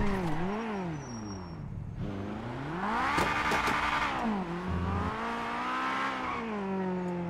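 Car engine in GTA 5 revving up and down through several rising and falling pitch sweeps, loud and close, with no talking.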